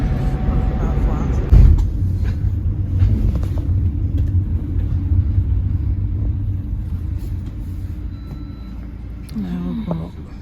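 A minibus drives to the airport, its engine and road noise forming a loud, steady low rumble throughout, with a sharp knock near the start and a brief tonal chirp toward the end.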